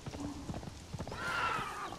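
Horse hooves clip-clopping in the video game Conan Exiles, a quick run of soft rhythmic hoofbeats followed by a brief whinny-like cry, fairly faint and heard without talk.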